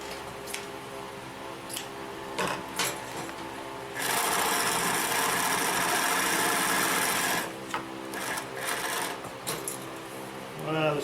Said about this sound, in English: See, we can climb right over those seams.